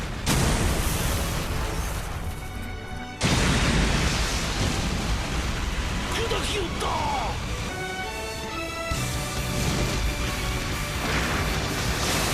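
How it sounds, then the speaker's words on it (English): A huge meteor explosion from the anime One Punch Man: a loud, sustained roaring blast with rumbling debris, a brief cut near three seconds, then continued dense booming turbulence with tonal effects layered over it. "Number 18. Meteor Explosion,"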